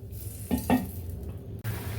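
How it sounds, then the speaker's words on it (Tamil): Covered pirandai tamarind curry simmering in a pot, a low bubbling hiss broken by two quick clinks of a lid or utensil and a brief cutoff near the end. "இப்போது நல்லா கொதிக்குது பாருங்கள்."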